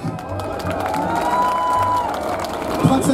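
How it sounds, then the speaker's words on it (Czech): A live audience claps and cheers at an outdoor radio station birthday event at a Majáles student festival in Brno, a dense, sustained crowd roar with a faint tone above it and a few louder bursts near the end. "Přátelé, potlesk."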